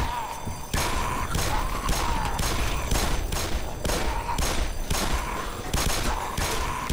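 Gunfire in Black Mesa comes as a rapid series of loud, close shots in a steady rhythm over a noisy background, about seven seconds of repeated bursts.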